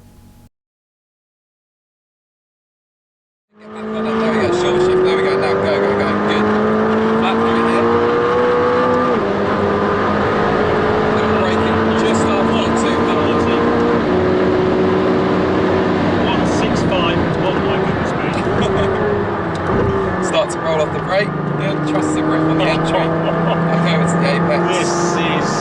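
A McLaren 600LT supercar engine roars loud and steady with rising and falling revs, sharp exhaust pops crackling out the back throughout, after a brief quiet start.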